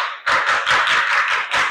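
A class of students claps for a student group, quick bright applause from a small crowd in a classroom that lasts under two seconds, close and loud with no talk.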